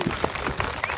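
Applause from the audience at a live political gathering in Shimla, a dense crowd clapping continuously at steady loudness with a few sharper claps standing out.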